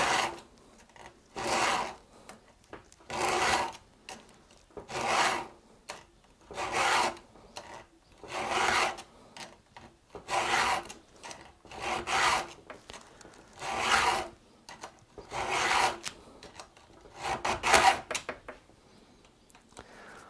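Steady rhythmic rasping of a hand file on chainsaw teeth, about a dozen downward strokes at an even pace with brief pauses between, using an Oregon field sharpening kit.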